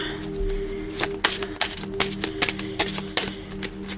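Tarot cards are shuffled by hand for a reading, a run of crisp riffling slaps and flicks at an uneven rhythm, close up, with no one speaking.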